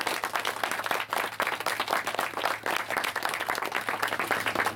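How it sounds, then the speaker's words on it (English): An audience at a dedication ceremony for a woman breaks into sustained applause, dense steady clapping from many hands continuing evenly throughout, fairly close and loud. "let's have a little applause for this wonderful woman"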